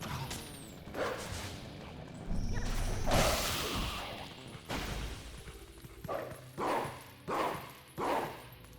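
Wolf Link's spin attack in Zelda: Twilight Princess HD, heard as a loud burst of whooshing swipes and crashing hits, followed by a run of rhythmic, punchy game sound effects.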